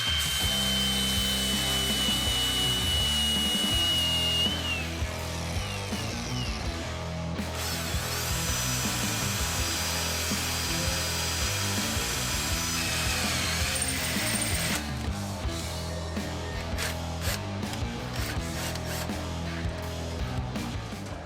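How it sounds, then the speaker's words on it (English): Power drill boring a hole into the metal of a 1968 GMC pickup, a steady loud whine with pitch shifts as the bit bites and slows, continuous and close for about twenty seconds with no talk. "So let's get a hole drilled."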